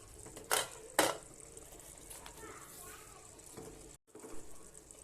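A pressure cooker lid lifted off during mutton kurma cooking gives two sharp metallic clanks close together near the start, followed by a low, steady kitchen background.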